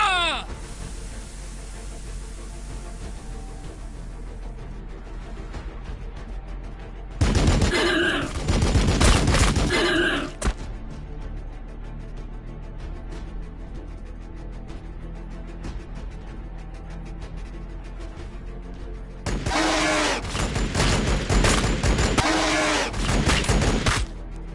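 Gunfire in the video game Battles Sector: two loud, dense bursts of rapid automatic fire, each lasting a few seconds, separated by a long lull of quieter battlefield noise.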